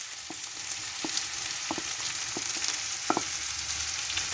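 Sprouts frying in a hot pan with cheese and egg ingredients added, a constant bright sizzle with scattered pops and a few clinks as they're stirred.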